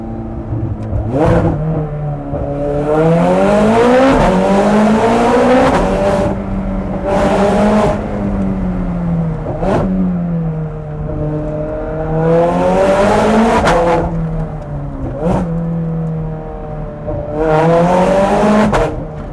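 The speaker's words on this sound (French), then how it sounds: "Ce bruit quand je change de vitesse" A Ferrari 430 Scuderia with a Capristo exhaust revs hard through repeated gear changes, its engine note rising in pitch, dropping at each shift and climbing again, loud and close over many seconds.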